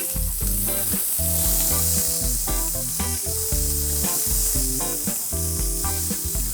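Finely chopped onion hits hot tempering oil with red chillies over a high flame, giving a loud, dense sizzle and crackle with repeated stirring clinks and scrapes throughout, close and without speech.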